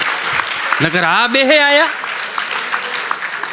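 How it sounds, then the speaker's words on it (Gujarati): Audience applause at a Gujarati stand-up comedy show, a broad wash of clapping running the full length with a voice speaking and a sung or drawn-out vocal phrase over it. "એની એક વખત જોરદાર તાળીઓથી વધાવો."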